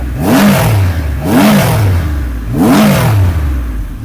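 Three-cylinder 2500cc engine of a 2020 Triumph Rocket 3R motorcycle revving hard three times in a row, each loud rising roar falling away, close by with no talk.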